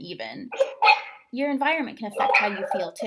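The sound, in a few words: dogs barking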